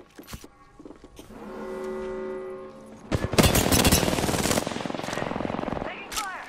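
Bursts of automatic weapon fire in an Apex Legends arena match, a rapid rattling volley breaking out midway and continuing loudly, preceded by tonal game sound effects and brief synthetic cues.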